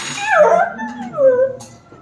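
A dog whimpers close by, giving two drawn-out, wavering whines that rise and fall, with a faint clink near the end.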